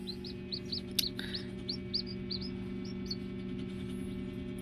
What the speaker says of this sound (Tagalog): Yun yung dalawang sisiw ko.